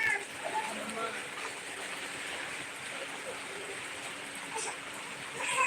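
A dense downpour of rain and hailstones splashes and rushes continuously nearby, its wash of noise running beneath people talking.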